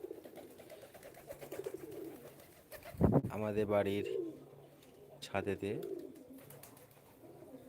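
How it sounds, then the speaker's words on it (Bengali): Pigeons on a house rooftop give soft cooing calls in two short bursts, while a person talks nearby. "পায়রা দেখতে পাচ্ছেন এই মুহূর্তে ওদের খাবার দিলাম চাল"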